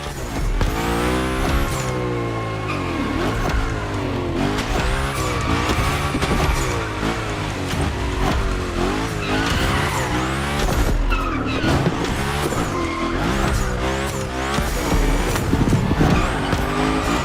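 In The Crew Motorfest racing game, a car slides through gymkhana drifts with continuous tire squeal and skidding over a revving engine, loud and unbroken throughout.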